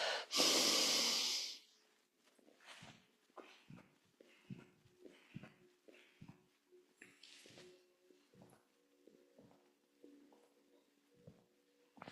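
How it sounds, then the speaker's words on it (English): A long, loud breath drawn in during a Tibetan breathing exercise opens the clip, followed by a series of quieter, shorter breaths and soft exhalations spaced irregularly, close to the microphone with faint background hum. "Take a breath in. Inhale on top."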